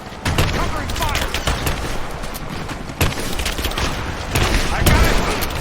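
Sustained video game gunfire from a Rise of the Tomb Raider firefight, with rapid overlapping shots and bursts forming a loud, constant barrage while enemy voices shout over it.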